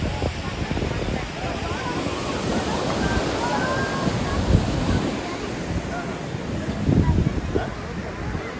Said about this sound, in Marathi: बँड्रा बँडस्टँडला हे हा समुद्र किनारा तुम्ही येऊ शकता